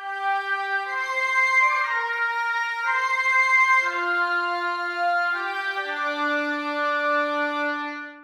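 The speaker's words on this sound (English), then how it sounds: "Let's move the oboe part down to the oboes a three track and have a listen to that." Three oboes in unison play a high woodwind line of long held notes stepping gently down and up, smooth and reedy, steady in level with no talking.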